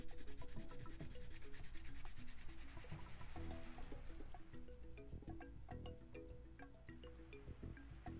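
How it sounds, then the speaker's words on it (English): Sandpaper rubs back and forth over a trimmed Wii console circuit board in quick, even scratchy strokes, close and fairly quiet, with music playing underneath and no talking. "I'm just going to sand this part really,"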